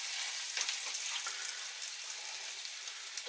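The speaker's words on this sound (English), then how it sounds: "And you want to fry those on medium heat, because all the inside is more or less cooked." Corned beef hash cakes coated in egg and breadcrumbs fry in a pan over medium heat, giving a steady, soft hiss of sizzling oil with faint pops and no voices.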